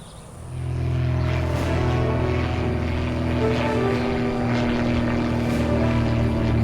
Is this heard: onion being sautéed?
no